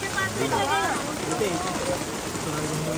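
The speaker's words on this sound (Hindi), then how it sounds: "अभी मस्त बारिश में हम लोग खा रहे हैं" Steady rain falls outdoors near a waterfall in a landslide-prone hill area, a constant broadband hiss throughout, with people talking over it.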